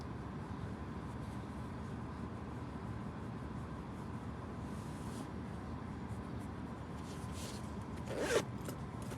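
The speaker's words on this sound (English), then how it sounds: "And then I zip it back up." A zipper is drawn closed in one quick rasping pull near the end, close and distinct against a quiet, steady background hiss.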